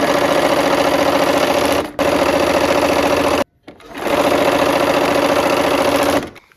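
A sewing machine stitches quilt pieces in loud, steady runs of rapid mechanical whirring, with two brief stops and a short silent gap before it starts again.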